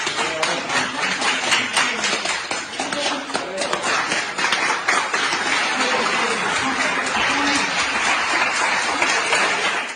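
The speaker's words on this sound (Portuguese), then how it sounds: "Na Espanha, funcionários de um hospital aplaudem uma paciente que acaba de deixar a UTI" Hospital staff in Spain applaud a patient leaving the ICU, with steady crowd clapping running for the whole stretch, mixed with murmuring voices and shuffling movement nearby.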